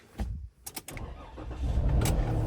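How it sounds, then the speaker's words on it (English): A 2016 RAM ProMaster van with a freshly swapped engine cranks in a few quick pulses, then catches and settles into a loud, steady running rumble close by, with no talking. "So I'm gonna go ahead and start the vehicle"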